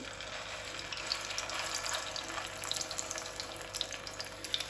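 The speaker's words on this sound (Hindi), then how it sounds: "थोड़ा सा हम ऑयल डाल देंगे, ज़्यादा नहीं डालेंगे। अब यहाँ पे टिक्कियाँ डाल देंगे।" Rice and gram flour kebab patties fry in a little oil in a pan, giving a steady, close hiss and sizzle with small pops scattered throughout.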